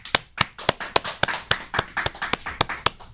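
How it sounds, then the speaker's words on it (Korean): A studio audience and hosts clap to welcome a guest onto a Korean political talk show, a brisk run of sharp, close handclaps lasting about three seconds, no voices over it. "큰 박수로 환영해 주십시오."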